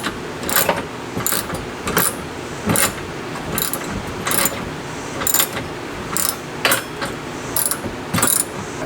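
Ratchet wrench tightening two 15mm nuts and a washer down on an Argo Adventure winch plate mount for an Argo Frontier, with repeated bursts of rapid clicking between short pauses, close and fairly loud, no talking.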